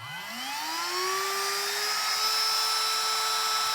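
Bosch cordless rotary tool switching on with a soft start, its whine rising steadily in pitch over about a second and then holding a high, steady buzz at full speed, close and alone.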